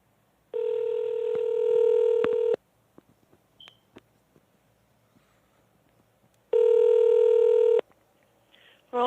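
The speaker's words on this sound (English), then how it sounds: "If you know your party's extension, please feel free to dial it now." Two bursts of touch-tone keypad dialing on a telephone line, each about two seconds long, with faint clicks and blips in the quiet pause between them.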